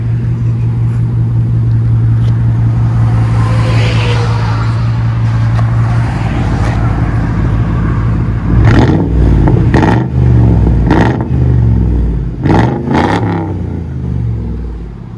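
A 2003 Mercury Grand Marquis GS with true dual exhaust and straight pipes, loud and close: a steady rumbling idle for several seconds, then a string of sharp revs that rise and drop back in quick bursts.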